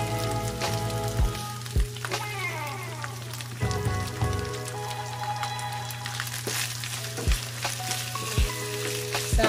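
Ground beef sizzles steadily in a pan just after oyster sauce goes in, a loud continuous frying crackle broken by a few sharp clanks of stirring utensils.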